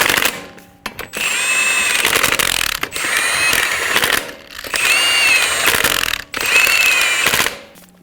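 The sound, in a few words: tightening lug nuts on a Toyota Camry wheel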